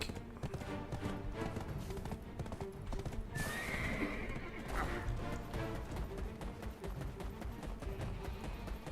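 Hooves clip-clop steadily at a gallop in a video game, with a horse neighing loudly midway, all set over continuous game music and ambience.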